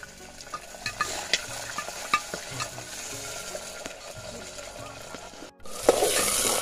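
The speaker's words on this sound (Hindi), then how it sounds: "इस मटर को भी थोड़ा सा भूनने के लिए इसमें डालेंगे" Peas frying with onions in a pan at an outdoor cooking spot, a steady sizzle broken by repeated scraping stirs and light clinks, with a brief pause before a louder burst of hiss near the end.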